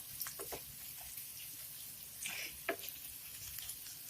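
Capsicum cooks in hot tempering for a besan simla mirch dish, giving a faint, even sizzle with a few light taps of stirring and no voices.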